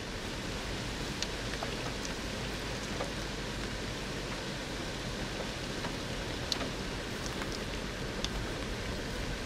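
Autumn rain falls steadily outdoors in the United States, a dense, close hiss of drops spread evenly across the whole stretch with scattered sharper taps and no voices.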